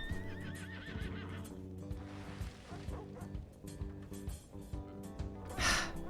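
Horses in the Western video game RedM, during a roleplay session, whinny loudly and repeatedly over game music and background noise, with a barking dog and hoofbeat clip-clops mixed in.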